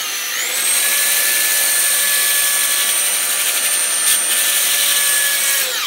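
Sandpaper works over a turned bur oak wood sink spinning on a lathe, giving a steady, loud rushing hiss over a constant high motor whine that holds for several seconds with no talking.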